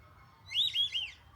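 A whistling duck gives a short call, a few quick high whistled notes rising and falling over about half a second, fairly faint against a quiet low rumble.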